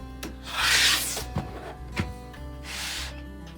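Fabric of a pieced quilt block being trimmed to size, with two rasping, scraping strokes of a blade against a cutting surface and small knocks between them, close and fairly quiet.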